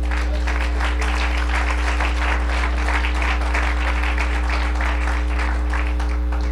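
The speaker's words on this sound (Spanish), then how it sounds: "Denle un aplauso a Jesús" A church congregation applauding for Jesus, steady dense clapping from many hands over a strong low electrical hum, continuing evenly with no voices.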